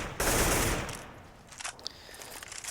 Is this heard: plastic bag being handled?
no